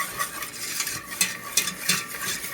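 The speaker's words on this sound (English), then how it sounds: "Give it a stir." A spoon scrapes and stirs through milk being added to a pan of toasted vegetables, making irregular soft bursts of scraping and light sizzling, close and moderately quiet.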